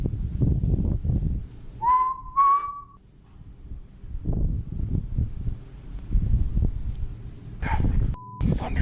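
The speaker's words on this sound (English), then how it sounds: "I swear I actually just heard a whistle." A short two-part whistle, one note then another, rings out faintly over low outdoor rumble of thunder on an island, with brief rustling and a sharp noise near the end.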